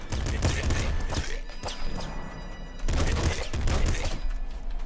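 Machine gun fire in the game Nuclear Throne rattles in dense, rapid bursts with crashing impacts, loud and continuous with a brief pause midway.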